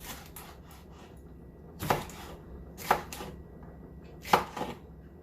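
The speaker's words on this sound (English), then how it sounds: "you can cut your vegetables how you like" A knife chops a small cabbage and red pepper on a board, three clear thuds spaced about a second apart over a low background hum, close and moderately loud.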